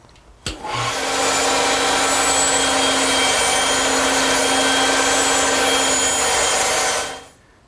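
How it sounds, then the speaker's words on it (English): A bandsaw cutting half-inch oak: the blade starts with a thump, holds a loud steady whine with broadband cutting noise for several seconds, then stops. "they're easily cut here on the bandsaw"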